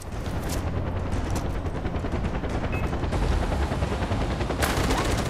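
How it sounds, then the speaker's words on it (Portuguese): Dense, sustained gunfire crackles throughout, rapid bursts layered over each other with a steady loud roar, an intense firefight during an airport assault in Far Cry 4. "É muito tiro, mano."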